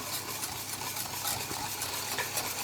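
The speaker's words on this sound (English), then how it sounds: "Remember to keep stirring" A spoon stirs chocolate fudge cake mixture in a pan, giving a steady close scraping swirl with a faint sizzle underneath, continuous and alone.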